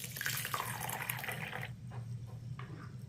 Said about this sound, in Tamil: இதை நல்லா கழுவிட்டு,